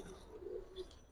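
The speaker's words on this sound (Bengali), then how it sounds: "এই টোটাল 7 পিস কবুতর" Pigeons kept by a breeder, including high-flyer types, give a single soft, low coo lasting under a second, faint and close against quiet background hiss.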